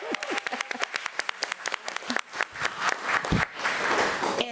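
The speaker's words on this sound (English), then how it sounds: "Let's give Sawyer another round of applause." Applause at a school board meeting, starting as a few sharp, separate claps close by that build into a fuller, blended round of clapping from the room.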